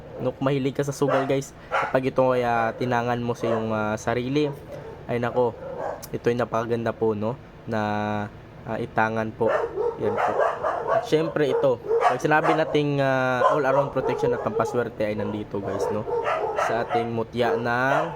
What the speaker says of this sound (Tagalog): pasensya nyo yung ingay ng aso namin